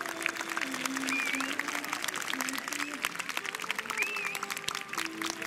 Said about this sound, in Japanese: 群馬県菊屋小幡花火店の皆さんに今一度盛大な拍手をお願いいたします。